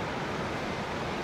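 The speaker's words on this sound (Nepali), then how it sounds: "यो चाहिँ फुङफुङे झरनाको पानी झर्दैछ।" Fungfunge waterfall in Taplejung, eastern Nepal, pours down in a steady, dense rush of falling water, a loud continuous roar with no break and no voices.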